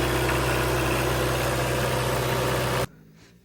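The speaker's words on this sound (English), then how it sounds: "it's what you get with a Toyota engine." A Toyota engine idles aboard a Nordhavn 64 boat, giving a loud, steady low drone with even vibration that suddenly cuts off near the end, leaving quiet background.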